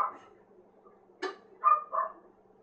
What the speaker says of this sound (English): There's the dogs barking outside on the house.